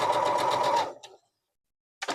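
Sewing machine stitching fabric for a quilt block, a fast steady needle whir that stops abruptly, a short pause of silence, then the motor starting again; no voices.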